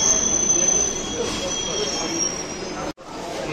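Wheels of a Barrackpore to B.B.D. Bag local train squeal steadily in a high, sustained screech over loud rumbling rail noise, cutting off briefly near the end before the din resumes.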